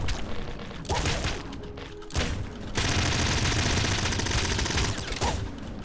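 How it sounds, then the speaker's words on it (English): Flame wave gun firing in the top-down shooter Nuclear Throne: dense, loud bursts of crackling gunfire and explosive whooshes with short gaps between volleys, up close, and no talk. "Ah, the flame wave gun though."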